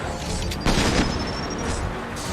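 Gunfire and a heavy boom in a Mass Effect 2 firefight, a sharp loud burst followed by sustained crackling shots and a faint whine, fairly close.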